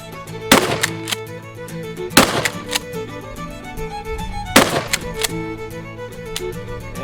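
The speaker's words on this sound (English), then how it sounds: "Let's shoot some bottles." A Mossberg 500 Cruiser pump shotgun fires at bottles, three sharp, loud shots spaced a couple of seconds apart over faint background noise.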